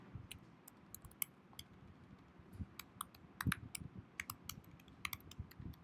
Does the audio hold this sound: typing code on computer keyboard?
yes